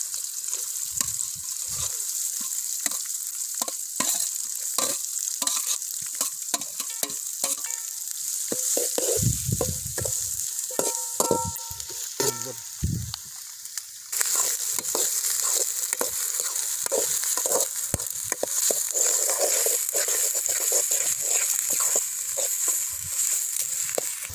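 Chopped onions sizzle and fry steadily in a pan while a utensil stirs and scrapes through them in irregular strokes.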